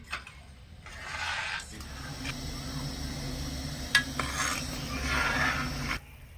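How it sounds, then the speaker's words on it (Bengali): Sugar syrup with cardamom and bay leaf being stirred in a pan: soft scraping and rubbing strokes in slow repeated sweeps over a low steady hum, with a faint clink midway. "এবারে নেড়ে চেড়ে চিনিটা গলিয়ে নেব"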